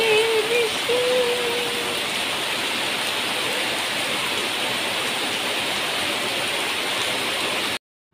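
Steady rain falling, a dense even hiss of drops lasting several seconds with a faint tonal sound near the start, then cutting off abruptly.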